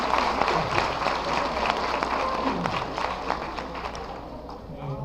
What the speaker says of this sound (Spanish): Un aplauso, por favor, para recibir al doctor José Mariano Guardado.